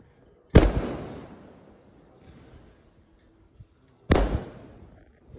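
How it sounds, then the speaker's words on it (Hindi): Powerful firecrackers set off during a Bhai Dooj family celebration go off twice, about four seconds apart, each a loud close bang followed by a brief fading rumble. "कितने तगड़े बम फोड़ रहा हूँ मैं"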